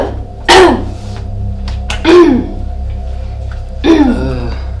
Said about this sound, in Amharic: አሳለኝና ትንሽ ትንፋሽ አጠረኝ።